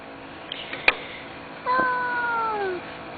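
A single cat gives one clear, slightly falling meow lasting about a second, close by against a quiet outdoor background, preceded by a couple of faint clicks.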